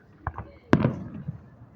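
Fireworks go off in a couple of quick bursts: a light pop followed by a louder, sharper crack with a short rumbling tail, fairly close by.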